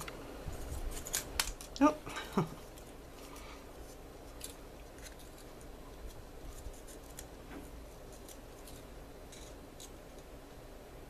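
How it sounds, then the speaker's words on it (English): Scissors cutting paper for a handmade paper bow, with a few quick snips close up near the start, then quiet rustling, and a brief spoken exclamation. "I'm using my bad scissors actually."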